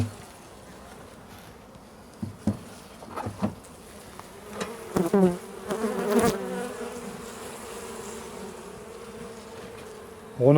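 Honeybees in a hive colony being fed candy in winter after light smoking, a steady close buzzing hum throughout with several louder bursts of wing noise and brief knocks from handling the hive.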